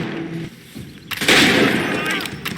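Gunfire in Assassin's Creed III crackles out in a loud, dense volley after a brief quieter moment, with voices speaking around the shots.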